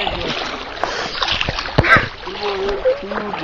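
Water splashes and sloshes in a river as someone wades and bathes, with irregular close splashes and voices talking nearby.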